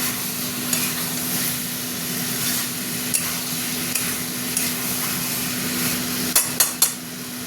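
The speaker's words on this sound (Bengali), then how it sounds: "পটলগুলো দিয়ে এবার একটু কষবো" Pointed gourd (potol) with green chilli sautéing in a pan gives a steady loud sizzle with a low hum beneath, marked by light scrapes and a quick cluster of utensil knocks near the end.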